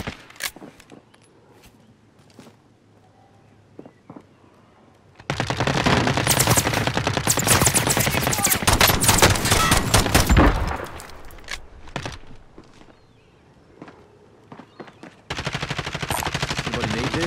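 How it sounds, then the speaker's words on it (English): Automatic gunfire in a military shooter video game, rapid loud bursts of machine-gun fire after a quiet stretch with scattered clicks, breaking off and resuming near the end. "Taking fire!"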